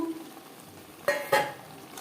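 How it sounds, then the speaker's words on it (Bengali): A spoon stirs ground spices (cumin, coriander, black pepper, dried chilli, bay leaf) through mutton fat in a kadai over a low sizzle, with two sharp metallic clinks close together. "খাসির চর্বি মশলার সাথে বেশ ভালো করে মিক্সড করে দেব"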